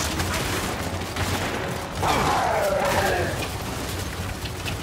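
Gunfire in the video game Gears 5: a dense, continuous wash of rapid shots and crackling impacts, loud and steady, with a sweeping whoosh partway through and a voice speaking faintly underneath.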